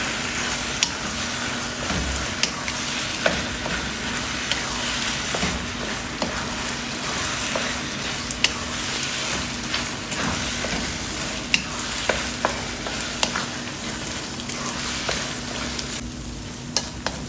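Coconut milk bubbles and sizzles steadily in a pan as it is stirred and fried down into latik. Dense crackling, spattering frying noise runs throughout, dotted with occasional scraping clicks from the stirring.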